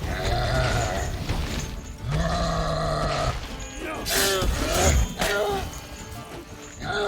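Sheep bleat in a series of wavering cries over busy, layered sounds and effects from The Witcher 3: Blood and Wine, loud and close with short gaps between calls.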